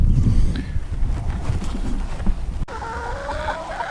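Pasture-raised poultry chickens clucking close by, a steady, busy run of clucks over low rumbling noise, with a brighter, more tonal call rising in the final second.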